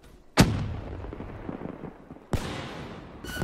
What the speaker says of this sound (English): Frag close.